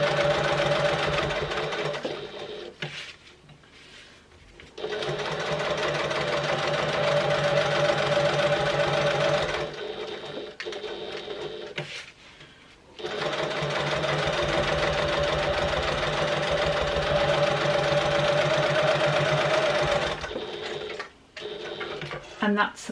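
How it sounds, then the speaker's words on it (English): Sewing machine basting and top stitching down wallet edges: long steady whirring runs of needle strokes broken by pauses and short stops and starts, with a person talking quietly during the gaps. "I'm literally just sewing or basting really right down these edges"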